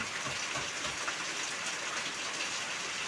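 Heavy rain pours steadily outdoors in the Philippines during household laundry, a dense, even hiss of drops with no let-up.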